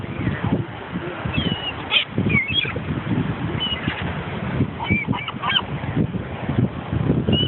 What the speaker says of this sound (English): so much for feeding the stupid birds